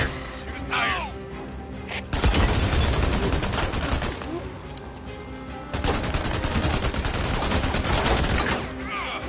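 Gunfire in Days Gone aimed at a fleeing vehicle's tires, with two long bursts of rapid, loud shots over engine and crashing noise. People shout in between.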